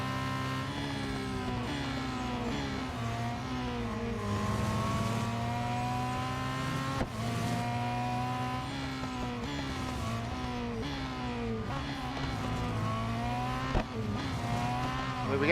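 Race cars roar through a Real Racing 3 race in Update 13.3, engines droning steadily and loud with rising and falling revs as gears shift, occasional tire noise mixed in, no talking.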